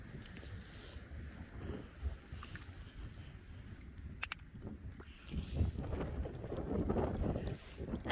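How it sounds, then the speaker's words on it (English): Strong gusts buffet a beach in New England during a shell hunt, with loud, uneven wind rumbles and microphone buffeting that build toward the end. "Oh my goodness, the wind is crazy."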